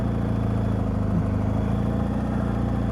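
A motorcycle engine holds steady raised revs while the rear brake is applied at slow road speed. It makes a constant, even mid-pitched drone at close range with no voices.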